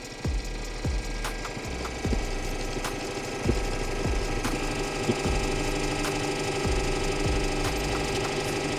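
A lever-operated hydraulic post driver attachment pounds with repeated, evenly spaced heavy thumps about once a second over a constant engine drone.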